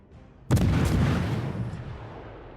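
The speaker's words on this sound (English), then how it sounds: "Shells going everywhere" Heavy naval artillery shells fire in a World of Warships destroyer battle, one loud deep boom hitting abruptly and rolling into a long, slowly fading rumble, close and alone.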